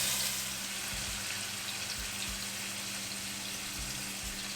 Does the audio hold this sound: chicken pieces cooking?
yes